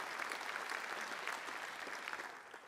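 A convocation audience applauds graduates, steady dense clapping throughout that fades slightly at the end.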